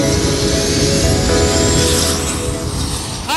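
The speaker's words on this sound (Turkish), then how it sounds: "Ardından motorlar çalıştırılıyor." Twin-rotor Chinook firefighting helicopter engines starting up, a loud, steady turbine roar and whine close by, filling the clip with a constant mechanical drone and no talk.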